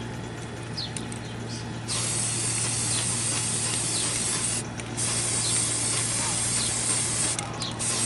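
Spray gun painting a JQ Racing Bitty Design RC car body with candy colours, giving repeated close hissing bursts of a few seconds each over a steady background hum.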